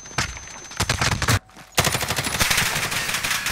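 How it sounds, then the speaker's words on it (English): Loud close automatic gunfire rattles in rapid bursts in a Warzone match, pausing for a split second before a dense sustained volley resumes. "I'm taking fire."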